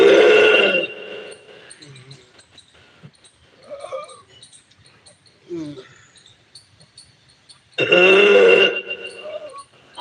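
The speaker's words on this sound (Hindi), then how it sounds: "डकार आएगी तो अपने आप आवाज आएगी" Deliberate burps during an air-swallowing yoga exercise: two loud, drawn-out belches open and close the sequence, with quieter throaty gulps and short vocal sounds in between.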